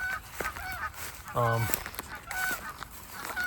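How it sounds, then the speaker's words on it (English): Geese honk as they fly past outdoors, a run of loud nasal calls with one strong drawn-out honk in the middle, over some faint background noise. "Some geese passing by."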